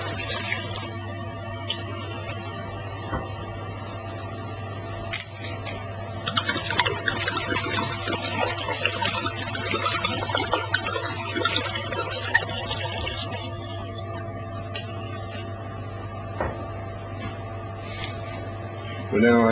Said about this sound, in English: So what we're going to do now is add the rest of the wine.